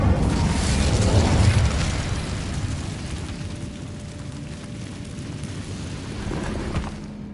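An Incendio fire spell cast in the Hogwarts Legacy video game erupts as a deep booming burst at the start, then settles into a continuous fiery rumble that gradually softens with a slight swell near the end.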